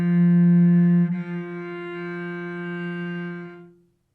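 A single sustained cello note, bowed lightly with weak finger pressure and sounding thin, holding for a few seconds before fading out.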